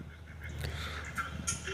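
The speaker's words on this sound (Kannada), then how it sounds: "ಇದರಲ್ಲಿ ಬಂದುಬಿಟ್ಟು 5 ಬಾತುಕೋಳಿ ಫಾರ್ ಸೇಲ್ಗಿದೆ, ಅಂದರೆ ಡಕ್ಸ್ 5 ಸೇಲ್ಗಿದೆ" Ducks for sale, five of them, one male and four females, give a few faint, short quacking calls over a quiet background, with a clearer call near the end.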